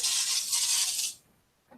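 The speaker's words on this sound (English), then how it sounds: "I'm going to use up the last of this, my dollar spray starch" A can of cheap dollar-store spray starch sprays in one steady, close hiss lasting about a second, then stops, followed by a faint small clink.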